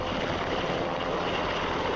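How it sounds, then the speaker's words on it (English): A UH-60 Black Hawk medium-lift military helicopter in flight, a loud, steady engine and rotor roar that holds constant with no breaks or talk. "the Black Hawk has served remarkably as the primary medium-lift multi-role helicopter"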